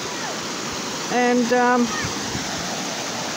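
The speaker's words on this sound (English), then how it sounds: "feeling the serenity here of the flowing waters down this creek" Water in a creek flows with a steady broadband rush, while a person briefly speaks over it.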